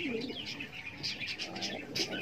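Nesting pigeon pairs give soft, repeated coos with a few short chirps, close and fairly quiet, with no speech.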